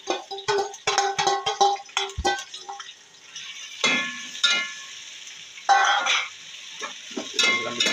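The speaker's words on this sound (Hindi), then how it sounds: "अब इसके अंदर हम प्याज को ब्राउन करेंगे।" Onions browning in a little oil in a pot, a steady crackling sizzle broken by sharp clatters of a stirring utensil against the metal.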